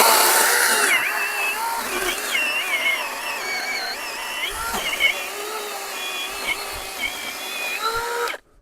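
Procraft PKA42Li 20V cordless chainsaw cutting through wood, a continuous high buzzing whine that bogs and recovers as the chain bites, close and loud for about eight seconds before it cuts off abruptly.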